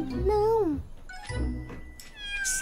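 A cat meows several times, close and clear, with rising and falling tones, amid light background noise.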